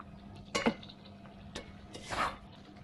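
A spoon stirring chicken coriander curry in a pan: a few separate scraping clinks, one sharp pair near the start, then a softer stroke and a longer scrape, faint and close with quiet gaps.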